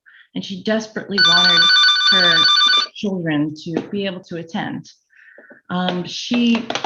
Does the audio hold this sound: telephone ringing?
yes